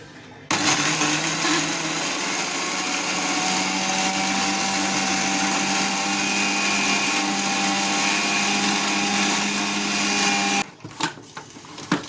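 A mixer grinder whirs loudly and steadily for about ten seconds while grinding spices, garlic and ginger for mutton kulambu, then stops, followed by brief clatter.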